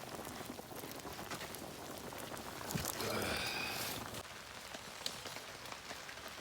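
Rain patters steadily on surfaces around an outdoor campfire where a group eats a hot pot meal, a soft continuous hiss with scattered drops and a brief louder rustle in the middle, no talking.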